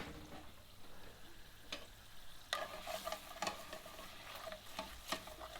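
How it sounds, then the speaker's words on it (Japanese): White wine sizzles in a hot pan while a utensil scrapes and taps against the bottom in irregular bursts, deglazing the browned bits, fairly quiet and close. "まず白ワインを入れてシュクフですね、鍋底についてあるシュクルを剥がしております"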